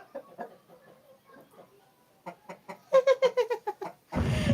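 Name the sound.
chicken clucking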